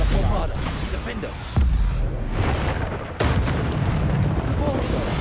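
Spell explosions from Bombarda casting in the video game Hogwarts Legacy, with deep booming bursts at about 1.6 and 3.2 seconds over a dense, continuous layer of game combat noise and voices.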